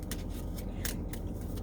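Quick papery flicks and riffles of index cards being shuffled sound in a few short bursts, close by.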